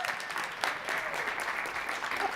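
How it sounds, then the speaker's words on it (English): A short burst of applause from a crowd, steady clapping that fills the whole moment without any talking. "Can we give Poonam a little round of applause, right?"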